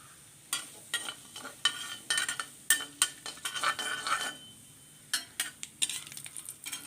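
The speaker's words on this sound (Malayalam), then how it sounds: "അതിലേക്ക് ഇനി ഒരു സ്പൂൺ ഉഴുന്നുപരിപ്പ് ഉഴുന്നുപരിപ്പ് പിളർന്നതാണ് അതും കൂടി ഇട്ട് കൊടുത്തു അതൊന്ന് മൂക്കണം" Split urad dal frying in oil with popped mustard seeds in a pan, crackling sizzle broken by repeated bursts of spoon stirring and metal scraping against the pan, close and fairly loud, no voices.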